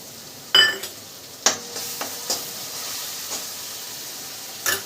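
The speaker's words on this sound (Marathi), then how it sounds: "आता आपण मुगाची डाळ टाकून देऊ" Moong dal tipped into a hot pan gives a sharp sizzle, followed by several scraping stirs and softer hissing bursts, close and clear with no talk.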